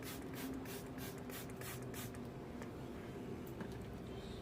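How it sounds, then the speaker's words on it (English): Contact fungicide is sprayed onto orchid plants from a handheld sprayer, giving a run of short, regular hissing bursts up close, then a steady spray hiss with a few more puffs near the end. "you can see I am spraying contact fungicide on the plant"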